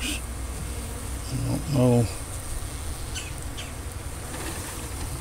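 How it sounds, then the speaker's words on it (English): Honey bees in a hive box, a steady, faint, busy hum running throughout while a person briefly speaks over it. "Very strong hive from that trap out. Good looking bees."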